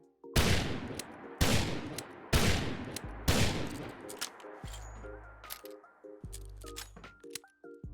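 Custom revolver sounds from a Fallout 4 mod: four sharp, loud shots spaced about a second apart, then quieter metallic clicks and clinks of reloading over a low droning game soundtrack.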